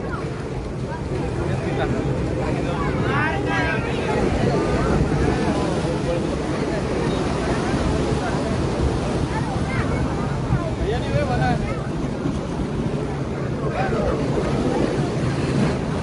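High sea waves surge and break at Gomti Ghat in Dwarka amid strong currents, a continuous loud roar of surf with wind buffeting the microphone and crowd voices mixed underneath.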